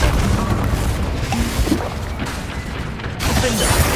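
A heavy booming blast from the Confringo explosive spell in the Hogwarts Legacy video game, loud and rumbling across the whole moment, with a second surge of noise near the end.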